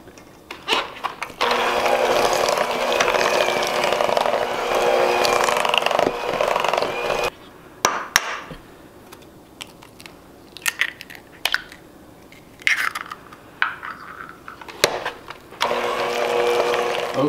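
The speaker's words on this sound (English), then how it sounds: "Obviously, I'm mixing eggs" An electric mixer whirs as eggs are beaten into cheesecake batter, in steady stretches broken by pauses filled with clinks and knocks.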